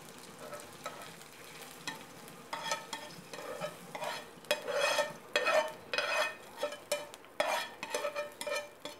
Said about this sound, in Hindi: थोड़ा सा फ्राई होने दूँगी